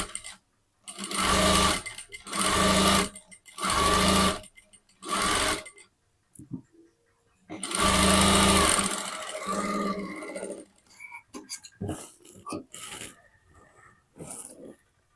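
A sewing machine stitches a 36-inch katori blouse with a back hook and boat neck, running in loud close bursts of a few seconds each separated by pauses, then softer short clicks and handling noises, with no talk.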